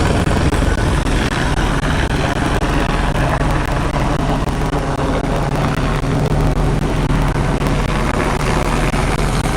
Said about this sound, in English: we got the police helicopter out here